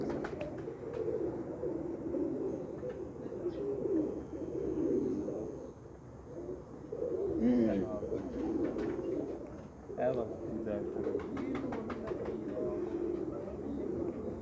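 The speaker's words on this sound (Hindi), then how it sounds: "ये लाले हंसराज वाले कबूतर हैं" Lal Hansraj pigeons coo softly in a low, continuous murmur, with people talking over them throughout.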